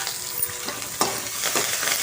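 Ginger, green chilli and curry leaves frying in hot oil, a close steady sizzle broken by a few sharp spits and the scrape of a stirring spoon.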